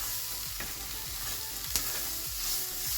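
Ingredients sizzle and fry in a pan for a low-carb one-pan Mexican dinner while a utensil stirs them, giving a close, constant hiss broken by a few scraping clunks.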